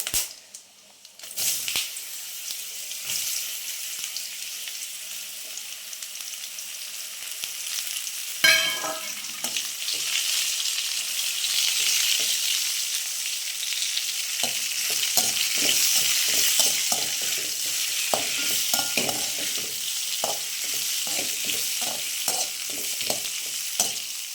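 Mango pieces and chilies sautéing in a hot pan: a steady frying hiss runs throughout, with quick repeated scraping stir strokes growing denser in the second half, no voices.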